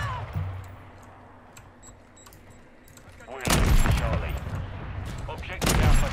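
Gunfire in the Modern Warfare 2 beta, quiet ambience at first, then loud dense bursts of shots from about three and a half seconds on, with a second heavy burst near the end.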